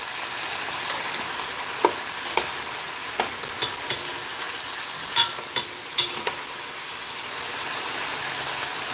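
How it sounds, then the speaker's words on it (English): Steady frying sizzle of chicken in a frying pan with a continuous hiss, broken by scattered sharp pops and clicks, close up with no voices. "Can you hear the sizzle?"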